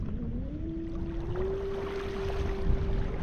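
Newport NK180PRO electric kayak trolling motor running on the water, a steady whining hum that climbs in pitch as throttle is applied and then holds level, with faint water noise beneath.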